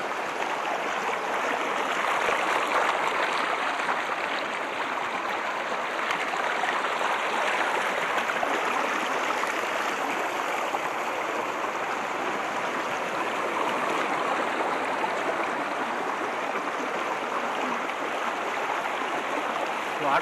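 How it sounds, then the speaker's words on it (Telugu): Sunnappugadda waterfall and its stream near Seethampeta, Srikakulam, give a loud, unbroken roar of rushing water that holds steady and close throughout, with no voices. "వాటర్ సౌండ్ చాలా వస్తుంది, వాటర్ సౌండ్ ఫుల్గా."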